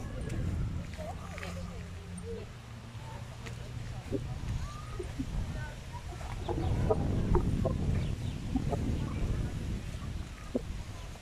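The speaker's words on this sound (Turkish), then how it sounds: "Bak tavuk buraya gelmiş, gel." A chicken clucks intermittently in short bursts amid outdoor background noise at Ömerli Dam, with people talking nearby in Turkish while trying to catch it.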